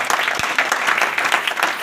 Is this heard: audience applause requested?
yes